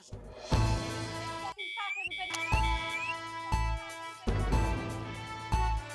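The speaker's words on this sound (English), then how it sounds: "All right, what was the alarm?" An alarm sounds inside the video game Not For Broadcast: repeated electronic beeping tones with rising whistle-like sweeps, set among interrupted bursts of game sound and music.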